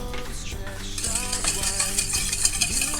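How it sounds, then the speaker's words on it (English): Yeast and sugar being whisked together, heard as rapid light metallic scraping and clinking of a whisk in a bowl over a background of other tones, fairly quiet and with no one speaking. "I'm going to hydrate my yeast and add the sugar and give it a little whisking"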